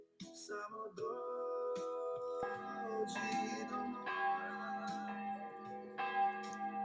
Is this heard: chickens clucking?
no